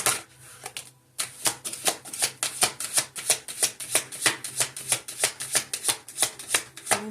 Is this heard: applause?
no